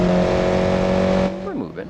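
A 1986 family sedan in BeamNG drives with a steady, loud engine drone that cuts off abruptly partway through, followed by someone talking.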